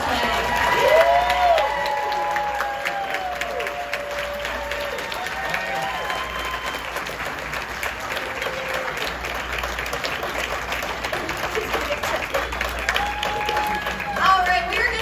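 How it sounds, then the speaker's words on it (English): Applause and cheering from a crowd at the Spooky Empire cosplay contest, held steady for about fifteen seconds, with voices calling out over the clapping. "One more round of applause."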